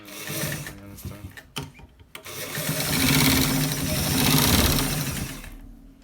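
Sewing machine stitching a shirt collar, running in fairly loud bursts with short pauses early on, then a longer steady run of mechanical whirring and clatter before stopping near the end.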